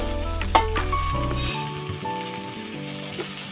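Boiled moong dal and water are stirred in a hot pan, giving a steady, close sizzle with soft scraping strokes and small clinks, heard alone without talk.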